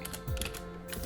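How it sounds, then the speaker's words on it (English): Quick, light clicking keystrokes on a computer keyboard, close and fairly quiet, coming in a brief irregular burst. "So I'll just type it in."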